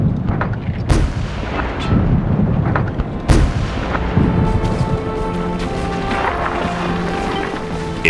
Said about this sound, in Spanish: Un cañonazo directo tras otro.